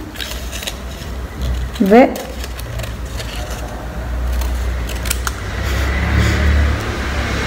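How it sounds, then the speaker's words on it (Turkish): Close scissors snip and crunch through paper in a few quick cuts while someone talks, with a faint hum in the background. "Sonra bunu makasla keseceğim"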